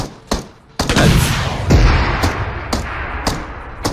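Gunfire rattles through a PUBG Mobile match: sharp, loud shots crack out in irregular bursts of about six reports over a busy game backdrop, with heavier thumping blasts between them.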